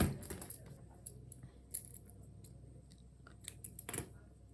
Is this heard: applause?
no